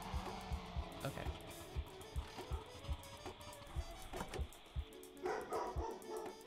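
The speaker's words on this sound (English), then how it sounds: "There goes my dog." A dog barks indoors in short repeated yips and woofs, fairly close, over the rhythmic thumping and engine noise of a driving game. A voice talks now and then.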